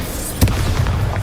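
A Bombarda spell blast in Hogwarts Legacy lands as one sudden booming burst, dense and low, that fades into a rumbling tail over a steady game ambience, with no talk.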